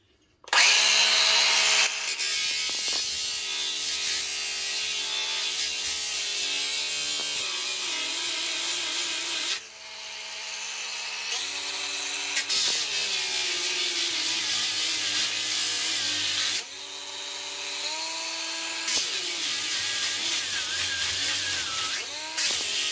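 A Bosch GWX 18V-10 SC 1000W angle grinder with a fibre disc whines steadily as it sands, a harsh high abrasive grind that pauses briefly a few times, then resumes.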